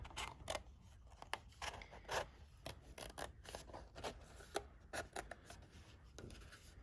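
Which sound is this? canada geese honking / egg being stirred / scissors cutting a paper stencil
scissors cutting a paper stencil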